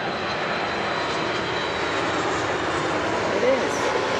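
A Boeing 737 MAX airliner's jet engines at Milwaukee Mitchell International Airport give a loud, steady roar that holds for the whole stretch, with faint voices in the background.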